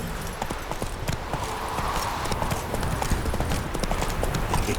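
Horse hooves galloping in The Witcher 3, a rapid rhythmic clip-clop of hoofbeats carried steadily over a rumbling background, moderately loud and continuous.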